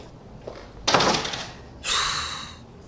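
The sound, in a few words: door being closed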